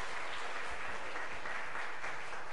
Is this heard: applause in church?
yes